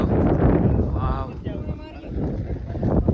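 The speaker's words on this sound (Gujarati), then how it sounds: "ઠંડો પવન આવે છે મિત્રો" Cold wind blows across Girnar mountain near Junagadh and buffets the microphone in a loud, continuous rush, with a voice briefly heard through it.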